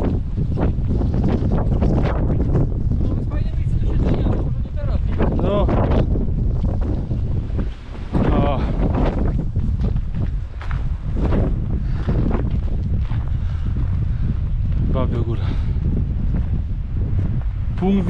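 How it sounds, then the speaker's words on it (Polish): Strong wind gusts roar across the microphone on a snowy mountain meadow along a trail near Babia Góra in Poland's Beskids, a loud, continuous buffeting that briefly eases once midway through. "Teraz wieje."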